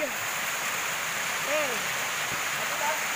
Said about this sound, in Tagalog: Nandito kami sa maliit na waterfalls.